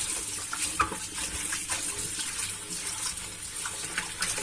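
Anchovies being washed under a running kitchen tap, with a steady close stream of water splashing into a sink and small irregular splashes as the fish are rinsed; no talking.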